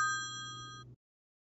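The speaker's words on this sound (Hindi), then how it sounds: "फोन बज रहा है, मामू की कॉल है दुबई से" A phone ringtone chimes with bright sustained electronic tones over a low steady hum, playing close and clear for under a second before cutting off abruptly into silence.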